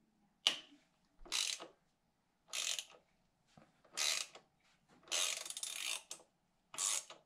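A T30 Torx bolt on the ABS sensor of a BMW R1250GSA motorcycle being loosened against thread locker, heard as a series of short close ratcheting bursts separated by silent pauses, with no talking.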